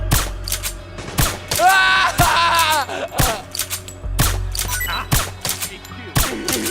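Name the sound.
suppressing gunfire in Metal Gear Solid 4 video game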